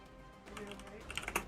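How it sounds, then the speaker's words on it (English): Typing on a computer keyboard, a close quiet patter of key clicks that grows busier and more rapid toward the end, with faint talk in the background. "I was typing it out"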